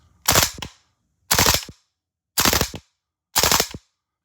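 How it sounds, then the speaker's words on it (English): Custom PTS Maten .308 shorty gas blowback airsoft rifle firing four sharp bursts, each a rapid cluster of loud cracking shots about a second apart, separated by clean silence. "So mag in, drop the bolt on burst."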